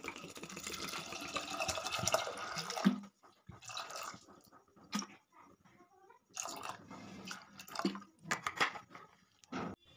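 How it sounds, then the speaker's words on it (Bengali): Water poured into a pressure cooker holding lentils for dhaba-style tadka dal, a soft close splashing fill that comes in uneven stretches with brief gaps, quiet overall and with no talk. "এরপর এখানে দিয়ে দিচ্ছি পরিমাণ মতো জল।"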